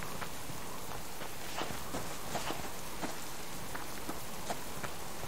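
Rain pattering on surfaces in the survival game Subsistence, a soft steady hiss with scattered heavier drops ticking through it, fairly quiet and continuous.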